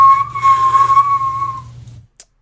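A whistle blown once during a tabletop role-playing game session, giving a loud, steady, shrill tone that holds for about a second and a half before cutting off into silence.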